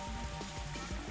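Soft, steady rain patters in a forest in the video game Higurashi When They Cry, a faint, even wash of drops with no other sounds.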